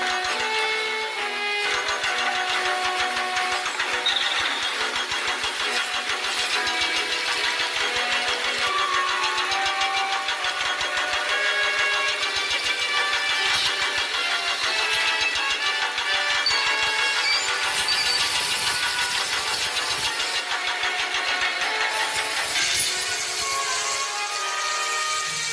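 A repaired engine runs loud and steady for the whole stretch, a dense mechanical roar with rattling, knocking texture and no talking over it.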